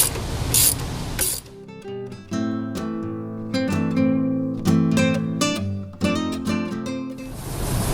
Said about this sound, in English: you can get in here with a socket wrench and just start turning it off